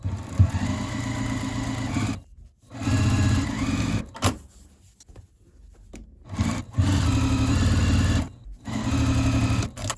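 A sewing machine stitches the side seams of a crochet granny star tote bag in three steady, loud bursts, separated by short pauses with faint handling sounds.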